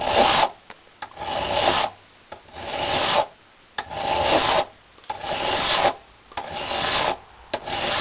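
A metal hand file scrapes rust off a metal piece in a steady rhythm of about six long rasping strokes with short pauses between them, close and clear.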